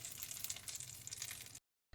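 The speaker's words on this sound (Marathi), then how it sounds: "आता ही फोडणी याच्यावर घालायचे" Hot oil tempering with cumin seeds and curry leaves is poured over chutney, giving a loud, steady sizzle and crackle that runs evenly for about a second and a half before cutting off abruptly.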